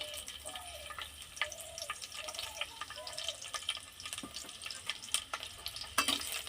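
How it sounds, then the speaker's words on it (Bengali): Chopped garlic, cut into long slivers, frying in white oil in a wok, with a steady soft sizzle and scattered crackles and clinks of stirring throughout. "তারপর আমি দিয়ে দিচ্ছি রসুন কুচি।"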